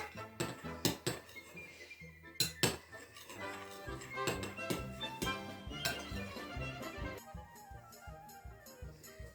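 Metal cutlery clinks sharply against dishes several times, with bright irregular strikes over faint background noise and no talking.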